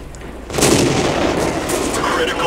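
A single heavy tank cannon shot booms out in World of Tanks after a quieter half second, followed by a loud, rumbling tail that lingers through the rest of the moment.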